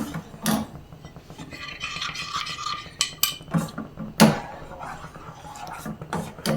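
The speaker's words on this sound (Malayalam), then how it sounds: "ഇനി നമുക്കൊരു 2 സ്പൂണ് മിൽക്ക് പൗഡർ ചേർത്ത് കൊടുക്കാം. ഇളക്കി മിക്സ് ചെയ്യാം." Milk powder stirred into semiya pudding in a pan, close scraping and rubbing of a spoon against the pan with several sharp clinks and knocks, steady and unvoiced.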